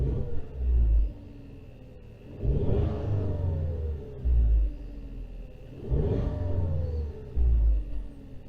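A 2021 Genesis G70 with a misfire revs twice in the garage, each rev climbing and dropping back to a steady idle rumble, close and moderately loud with no talking.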